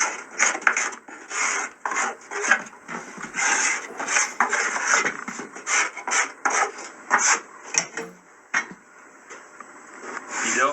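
A flat plate scraped across the surface of a plaster mould to level it, giving a steady run of dry rasping strokes in uneven rhythm, close and fairly loud, with no talking.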